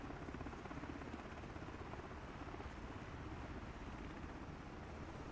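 An MH-60 helicopter in Microsoft Flight Simulator 2024 gives a steady, faint rotor and engine drone with constant rumbling noise, unbroken for several seconds with no talk.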